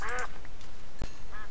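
A duck in the PuppetCraft video game gives a couple of quick, clear quacks close up, followed by another short quack a moment later, with no talking.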